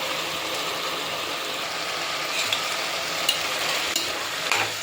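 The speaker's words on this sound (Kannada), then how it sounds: "ಎಲ್ಲ ನೀಟಾಗಿ ಮಿಕ್ಸ್ ಮಾಡ್ಕೊಳ್ತಿದ್ದೀನಿ." Chopped vegetables and tomato sizzle steadily in a pan while being stirred for vegetable pulao, with faint scraping taps over the constant frying hiss.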